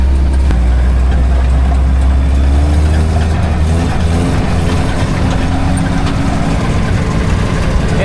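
A Willys jeep engine runs loud and close, a steady low rumble with a rough mechanical whine from a worn throwout bearing, continuous with no talking.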